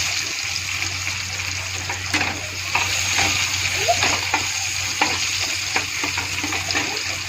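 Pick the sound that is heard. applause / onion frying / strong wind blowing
onion frying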